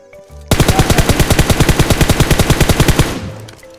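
A single burst of rapid automatic gunfire in PUBG Mobile, about twenty loud, evenly spaced shots fired in quick succession over roughly two and a half seconds, then a short echoing tail.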